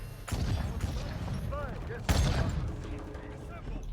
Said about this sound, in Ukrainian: Гармата стріляє.